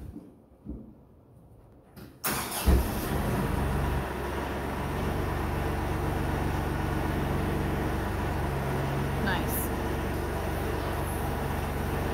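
After a few quiet seconds, a machine engine starts up and settles into a steady, loud drone while its forks lift a Titan SP240 94-inch snow plow. The rumble continues unbroken to the end.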